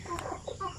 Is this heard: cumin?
no